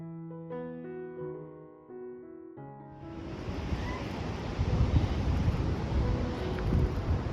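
Waves on Moeraki Boulders Beach on the east coast of Otago, a broad rushing surf with wind noise that swells in after several seconds of music and stays loud and steady.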